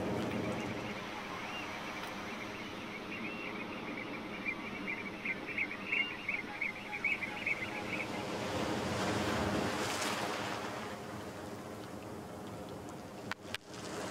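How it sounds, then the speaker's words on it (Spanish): Ocean waves wash steadily onto a beach in Peru with a continuous surf roar, light wind buffeting the microphone, and a few brief clicks and knocks near the end, with no talk over it. "Estamos acá en la playa,"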